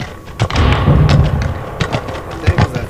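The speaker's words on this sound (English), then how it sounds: "Cannon." Cannon fire in the Gettysburg Armored Warfare video game, with heavy low thuds booming repeatedly through busy battle noise over about three seconds.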